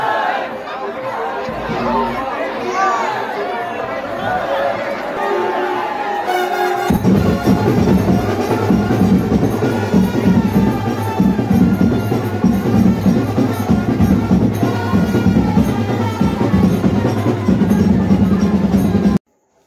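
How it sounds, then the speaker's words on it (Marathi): A large, dense crowd chatters and murmurs at a Hanuman Jayanti palanquin procession in a village near a temple, first quieter and then a louder, fuller hubbub from about seven seconds on. "पालखी आली आणि खूप गर्दी आहे."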